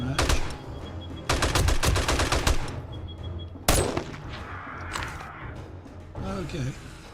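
Automatic fire from M60 turrets in the 7 Days to Die video game during a blood moon, with repeated loud rapid bursts separated by short pauses and sharp single reports.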